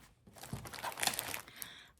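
Crinkly rustling of mesh net zipper project bags being handled up close, a brief burst of crumpling and scratchy friction with no talking.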